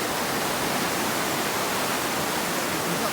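Water pouring over a weir on a relief canal near the River Tame in winter, a steady, dense, unbroken roar with no other sounds.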